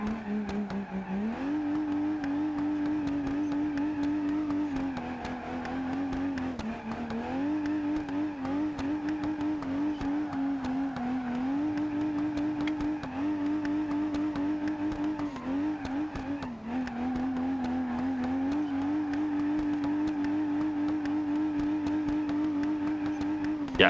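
Engine of a drift car in BeamNG.drive revs loud and steady throughout, its pitch rising and dipping with throttle changes and brief tire squeal, with no talk over it.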